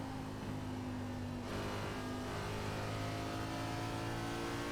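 NASCAR Cup Series race cars roar around Iowa Speedway in the iRacing game, a steady loud engine drone with a car passing close and the pitch shifting as it goes by.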